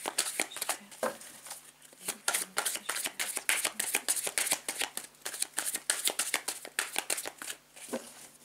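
Tarot cards being shuffled by hand, a steady run of crisp riffling and flicking bursts in close succession, near and fairly quiet, with no talking.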